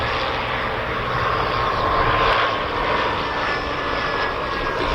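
A vintage Avro 504 or BE2E biplane flies at an airshow, its propeller engine droning steadily and loudly throughout with a slight swell in the middle and no talk.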